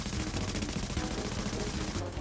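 Rapid automatic gunfire from a shooter video game set in The Division, a dense continuous burst of shots filling the whole clip at steady loudness, cutting off abruptly near the end.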